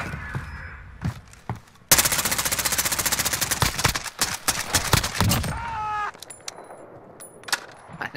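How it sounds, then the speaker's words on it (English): Rapid automatic gunfire in a video game, a loud sustained burst of machine gun shots lasting several seconds, followed by scattered single shots and game sound effects. "I just didn't stop shooting."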